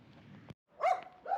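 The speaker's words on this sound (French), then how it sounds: "cette rue-là, il y a beaucoup de chiens mécontents." Dogs bark on a hot street in Albania, a muffled low yap followed by two sharper, louder barks at moderate distance, with a brief silent gap between them.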